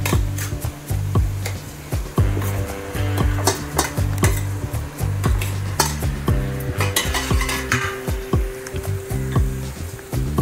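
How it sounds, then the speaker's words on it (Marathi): Mashed tomatoes hit spices frying in hot oil for tomato chutney, giving a steady sizzle under repeated scraping and clinking of a spoon stirring in the pan, close and continuous with no talking. "आता आपण मॅश केलेले टमाटे त्यात ॲड करणार आहोत।"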